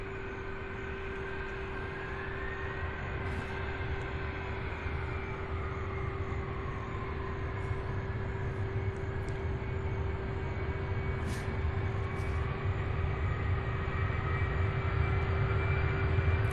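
A Boeing 767 taking off at night at SDF, the UPS Worldport in Louisville, gives a loud, steady jet roar that builds slowly and holds for a long stretch, with a constant hum beneath it.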